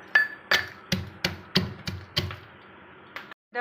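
Garlic, peppercorns, cumin and chilli pounded by hand into a spice paste: about seven sharp, fairly loud thuds at an uneven steady rhythm, close up, with no talking.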